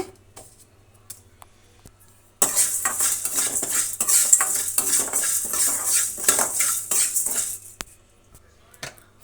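Whole spices, including pepper and cloves, rattle and hiss in a hot pan under about five seconds of busy stirring and scraping, with quiet before and after.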